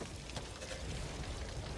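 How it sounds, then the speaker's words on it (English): Rain and distant thunder in the Back 4 Blood video game, heard as a steady, fairly quiet wash of rainfall with a low rumbling underneath that lasts the whole short stretch, with no voices. "Sound of thunder."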